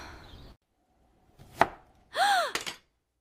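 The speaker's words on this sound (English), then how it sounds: "I accidentally cut my finger while chopping vegetables" A knife chops vegetables with one sharp, close strike on a board, followed by a brief swooping tone and a short clatter in an otherwise quiet room.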